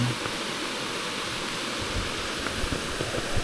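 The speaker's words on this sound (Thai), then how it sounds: "เป็นน้ำตกเล็ก ๆ ลงมา" Steady rushing water of a small waterfall pours continuously, a soft even splashing roar with no voices.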